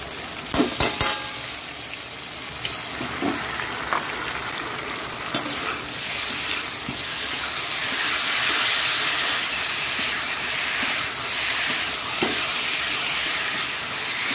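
Spice paste for an egg curry hits a hot pan and fries with a loud, steady hiss and sizzle, with a few sharp clinks at the start and occasional stirring scrapes, close up with no talk.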